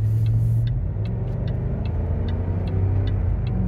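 A red Rover SUV engine drones loud and low under steady power, heard close from inside the car as a continuous rumble with faint regular ticks above it.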